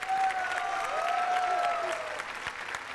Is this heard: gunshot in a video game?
no